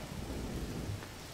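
Thunder rumbles over steady rain in the MewnBase video game, a dense low roar with broadband hiss throughout, no talk.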